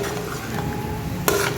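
Boiled potatoes being stirred in a pan, a steady close scraping and stirring texture with a light sizzle underneath, and a brief louder clatter near the end.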